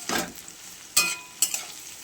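Sliced bitter gourd with chopped onion and turmeric frying on low heat in a pan, with a few brief scraping stirs and soft sizzling bursts spaced apart.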